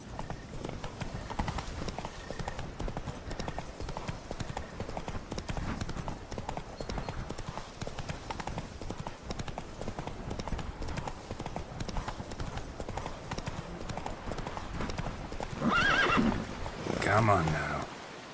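Horse hooves clip-clop steadily at a gallop in The Witcher 3, a continuous quiet rhythm. Near the end a horse lets out two short neighs.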